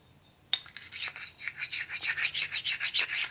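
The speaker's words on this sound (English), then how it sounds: "So we want to file that down slightly here" A metal file rasps over corrosion on a 1965 Harley panhead 74ci engine part, a quiet close-up series of about a dozen rhythmic back-and-forth strokes following one sharp initial scrape.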